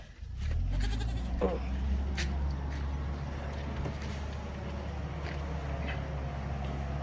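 Several goats bleat loudly and repeatedly close by, their wavering cries overlapping against a steady low background rumble.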